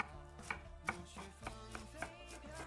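Knife chopping soaked cabbage into fine shreds on a cutting board, a series of crisp, close, evenly spaced thuds about every half second, with no talking.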